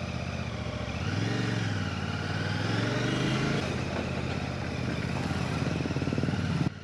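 A Royal Enfield Classic 650 Twin motorcycle engine drones close by while riding, its pitch rising and falling with throttle before cutting off at the end.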